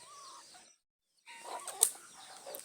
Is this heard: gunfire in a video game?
no